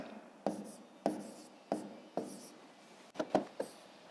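A pen writes numbers by hand on paper in a series of short, scratchy strokes, each starting with a soft tap, close up and with no talking.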